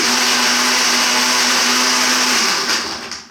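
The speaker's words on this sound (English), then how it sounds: "Turned on my blender" A kitchen blender runs at full speed with a steady, loud whirring whine that holds for a few seconds and then winds down as it switches off.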